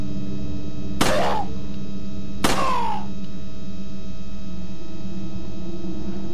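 Two sharp gunshots from the video game Resident Evil 4, about a second and a half apart, each with a short ringing tail over a steady low game hum.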